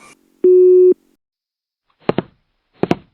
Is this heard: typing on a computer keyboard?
no